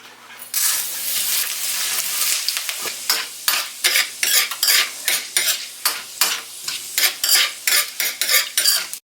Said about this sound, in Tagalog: Mas okay yung ganitong igigisa nyo muna yung atswete sa mantika para lumabas yung kanyang aroma at dagdag lasa na din.